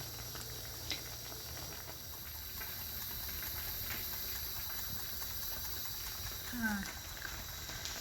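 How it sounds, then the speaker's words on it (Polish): Apple compote boils hard in a pot, giving a steady bubbling, hissing wash at close range that runs unbroken for the whole clip, with a couple of faint clicks. "Już Wam pokazuję, jak się mocno gotuje."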